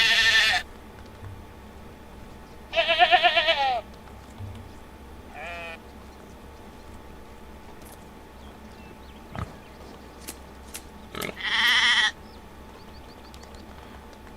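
Sheep in the medieval survival game Medieval Dynasty bleat in several separate bursts over a quiet ambient background, a few loud and near, others fainter, with occasional clicks in between.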